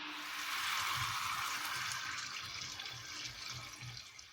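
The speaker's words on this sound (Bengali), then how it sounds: "আর একটু জল দিয়ে দিচ্ছি।" Water poured into a simmering hilsa curry in a pan, a steady splashing pour that fades slightly toward the end, close and fairly quiet with no talk.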